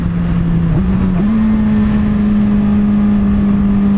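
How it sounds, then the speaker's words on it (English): A 600cc sportbike is held at full throttle in fourth gear. The engine gives a loud, steady drone that dips briefly, then settles into an even pitch that climbs only slowly, with constant wind and road noise. "Watch what happens when I just full throttle it."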